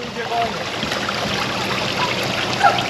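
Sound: river water flowing

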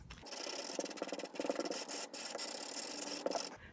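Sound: sandpaper sanding the edge of paper

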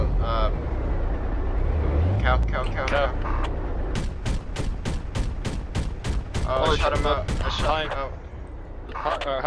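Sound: gunfire shooting at a Hind helicopter in Project Reality video game

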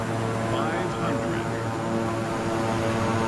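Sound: aircraft engine in video game Microsoft Flight Simulator

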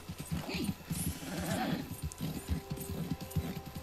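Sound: horse hooves clip-clopping while riding, from the video game Red Dead Redemption 2

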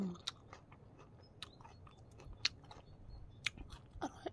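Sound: chewing pickled apple

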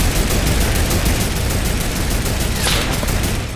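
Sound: turret gunfire in a video game

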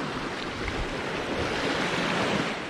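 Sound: ocean waves washing onto the beach at a jetty

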